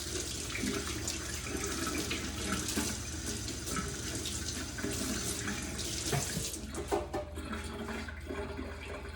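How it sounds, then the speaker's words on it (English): Tap water runs steadily into a kitchen sink as hands are washed during Sunday meal prep, a close, continuous splashing rush with small shifts in the stream and no talking. "Second time, wash the hands."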